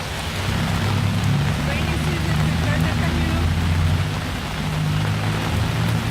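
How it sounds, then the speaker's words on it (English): Heavy rain pours down steadily during Bangkok's rainy season, a dense continuous hiss with low rumbling underneath, close and loud throughout. "You can have really nice weather during the day, and then you can have a pouring like this"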